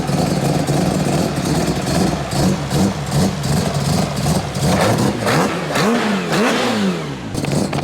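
Four-rotor engine in a Toyota Supra revving hard, a loud rough buzzing idle rising into sharp repeated throttle blips with rising and falling pitch, close by, with no talk.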